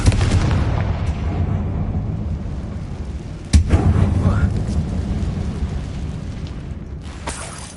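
In the Hogwarts Legacy game, a Confringo blasting spell bursts with a heavy booming explosion inside a mine, followed by a rumbling decay. A voice speaks over the blast.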